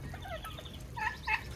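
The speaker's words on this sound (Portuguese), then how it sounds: "Olhem só, perua." Domestic turkey hen calling at a bird-breeding aviary, a few brief gobbling, clucking calls in the second half of the clip, moderately clear over a low rumbling background hum.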